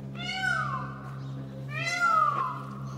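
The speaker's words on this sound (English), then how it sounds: "Occasionally a peafowl voiced its meowing cry," A peafowl gives two drawn-out, meow-like wailing cries, each rising and then falling, clear and fairly close over a low steady hum.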